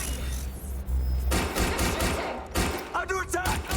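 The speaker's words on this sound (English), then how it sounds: "my character being a hitman with a fucking fully automatic machine gun" Rapid fully automatic machine gun fire in Watch Dogs Legion, loud sustained bursts with a brief pause, close and continuous with game effects, no voices.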